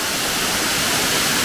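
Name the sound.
waterfall in the Fagaras Mountains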